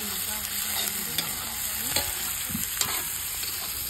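Chilies fry and get stirred in a wok at home, with a constant soft sizzle under repeated scraping stir strokes, fairly quiet and close.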